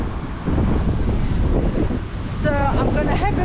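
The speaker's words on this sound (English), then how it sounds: "And it's very windy as well today." Strong wind in central Athens buffets the microphone with a loud, steady roar, easing briefly before gusting again; a voice is faintly heard toward the end.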